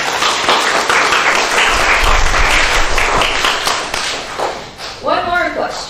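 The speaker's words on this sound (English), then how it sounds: "Let's give the students, Auntie Sharon, Auntie Karen, and Uncle Sean another round of applause." A congregation at a Sunday Dharma family service applauds the students, loud close clapping that swells and then tapers, with voices rising near the end.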